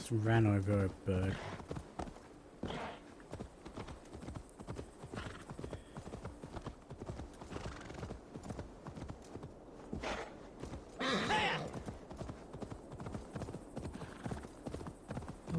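Horse hooves clip-clop in a steady galloping rhythm in the video game Assassin's Creed Valhalla, with a brief whinny near the start and someone talking over the hoofbeats throughout.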